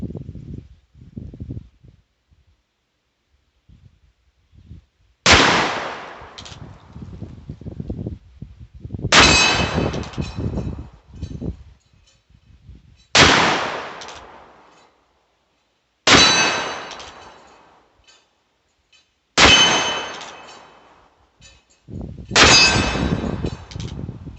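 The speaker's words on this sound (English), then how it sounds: "that was our first shots through the old model Ruger Blackhawk" Six sharp shots from a 1972 old model Ruger Blackhawk .357 revolver ring off a steel target outdoors, each a loud crack with a metallic clang that decays over a second or two, spaced a few seconds apart after some quiet handling noise.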